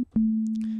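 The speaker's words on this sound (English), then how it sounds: "So here we have a sine wave, and it is following the dictations of my envelope." A pure sine wave tone from the Massive software synthesizer, shaped by a volume envelope, sounds as a steady, smooth low hum that holds at an even level to the end, after a short blip at the very start.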